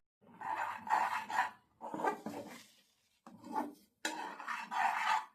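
A spoon scrapes and stirs thickening milk in a pot for homemade ice cream, rasping in four bursts separated by short pauses, close and fairly loud with no talk.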